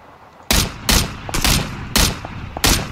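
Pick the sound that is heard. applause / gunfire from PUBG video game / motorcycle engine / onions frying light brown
gunfire from PUBG video game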